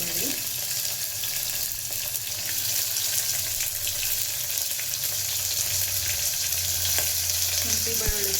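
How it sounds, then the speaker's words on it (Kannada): Chopped onion, beans and ginger-garlic paste frying for methi pulao, a continuous loud sizzle with occasional stirring scrapes and clinks and a low background hum throughout. "ಇದನ್ನ ಚೆನ್ನಾಗಿ ಫ್ರೈ ಮಾಡ್ಕೊಳ್ಳೋಣ."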